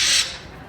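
A pet parrot lets out a loud, shrill scream lasting about a fifth of a second, then the sound fades into quiet room noise.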